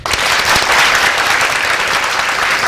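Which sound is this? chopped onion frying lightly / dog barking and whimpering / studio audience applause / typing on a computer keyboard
studio audience applause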